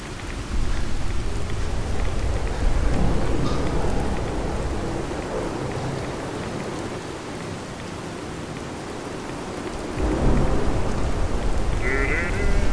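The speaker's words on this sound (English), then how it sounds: "Through the radioactive rain." Radioactive rain in the Fallout 4 video game, a steady loud downpour hiss with low rumbling that briefly eases before surging again, alone with no voices.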